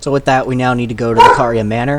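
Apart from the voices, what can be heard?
dog barking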